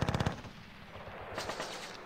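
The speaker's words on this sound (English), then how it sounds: "I use our machine gun first and lay down rounds" Short burst of machine gun fire in the North Africa wargame Panzer Battles, about six rapid evenly spaced shots up front, then fading into a low rumbling battle ambience.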